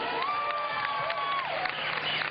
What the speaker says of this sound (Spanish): Os pido un fortísimo aplauso para Paqui.